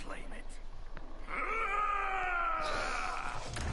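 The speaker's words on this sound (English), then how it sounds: "That scream. That's hilarious." A video game character lets out a drawn-out, wailing scream in a medieval fantasy fight over the Blades of Hasarian, loud and wavering for a couple of seconds over game background sound.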